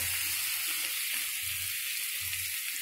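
Water poured into a pan of powdered-spice curry for a fish-head moong dal, hissing into a loud continuous sizzle with faint soft stirring underneath, close by and without talk.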